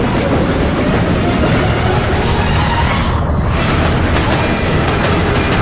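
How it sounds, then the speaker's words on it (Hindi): A loud, dense rumble of trains arriving, rolling rail noise that fills the whole stretch at a constant high level with no pauses. "रेलगाड़ियां आ रही हैं।"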